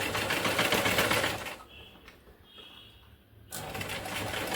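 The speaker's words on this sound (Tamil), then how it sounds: "நான் இதை ஸ்டிச் பண்ணிவிட்டு இதே போல் இதோட எண்டிங் வரைக்கும் நீங்கள் வந்து ஸ்டிச் பண்ணிக்கிட்டே வரணும்" A sewing machine stitches a blouse neck piece with a loud, fast, steady whirring run, stops for about two seconds, then starts up again just as busily.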